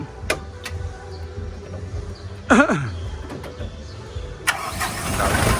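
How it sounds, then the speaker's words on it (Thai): A Kubota M108S tractor's diesel engine cranks briefly and catches with a rising rumble, then settles into a steady idle that grows gradually louder and rougher toward the end, over faint background ambience. "ติดง่ายครับ M108 S ครับ ยักษ์ใหญ่ทรงพลังเลยครับคันนี้ครับ"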